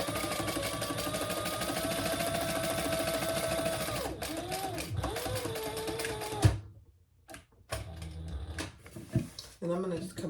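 A home sewing machine stitches a small pen pocket, its motor humming in a steady even buzz for about four seconds before stopping. Handling clicks and rustles follow.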